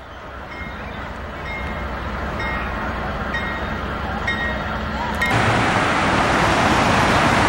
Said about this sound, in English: Looks like a train on the move.